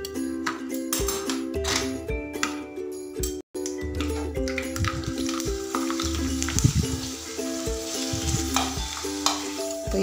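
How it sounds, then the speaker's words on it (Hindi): Papad fries in hot oil in a kadhai, giving a continuous crackling sizzle under tong clicks and clattering, with a momentary gap early on and a steady texture afterward. "इस तरह से हम कढ़ाई में पापड़ डाल के फ्राई कर लेंगे, चिमटे से पकड़ते हुए हम फ्राई करेंगे"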